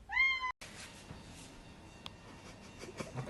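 A cat gives one clear, loud, rising meow right at the start, then a short gap and only faint indoor room noise.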